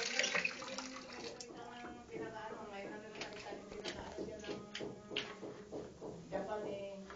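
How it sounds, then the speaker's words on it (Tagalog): A household tap in a house runs steadily, a faint, continuous watery hiss with small splashes, partly under talk and shuffling. "meron din gripo dito"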